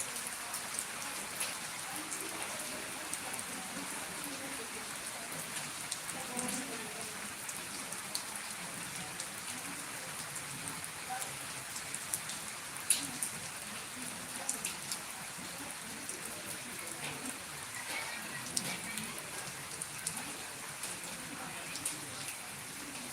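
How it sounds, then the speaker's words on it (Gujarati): Sudden unseasonal afternoon rain in Jambughoda makes a constant, moderately faint hiss and patter of drops, steady throughout with faint voices now and then. "અચાનક વાદળ આવી ચડી અને વરસાદ ચાલુ થયો છે"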